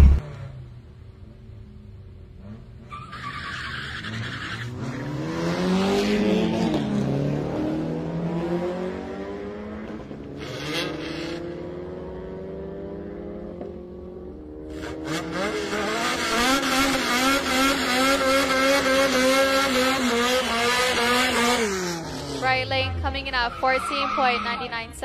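Cars launching and racing down a drag strip, engines revving and accelerating in long rising sweeps that swell loud up close, with voices talking over the roar.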